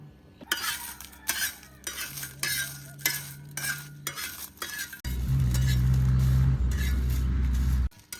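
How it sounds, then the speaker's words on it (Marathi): Green chillies roast in oil in a pan with a rhythmic series of scraping stirs over a light sizzle, followed by a louder, steady rumbling hiss with a low hum underneath. "मिरच्या भाजून घेतो. तेल टाकतो."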